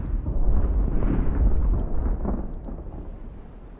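Distant naval cannon fire from the sailing-era warship game Ultimate Admiral: Age of Sail rolls in as a low, thunder-like rumble, swelling and then fading over a few seconds.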